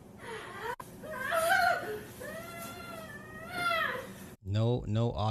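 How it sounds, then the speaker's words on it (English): A small animal, likely a cat, meows and whines in drawn-out, wavering cries close by, a string of rising and falling wails ending in a few short, louder yowls after a brief pause. "just a lot of meowing and whining"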